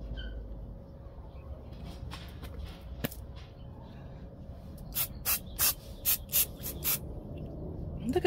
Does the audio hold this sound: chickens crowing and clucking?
no